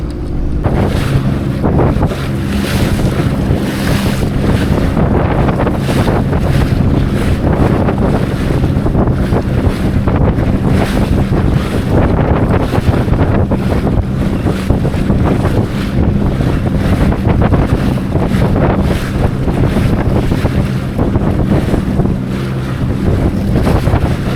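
A FishPro Scout fishing boat pounds through choppy waves on Lake Winnebago, with a steady roar of engine, wind buffeting the microphone and water slapping the hull, loud and continuous throughout with no talking.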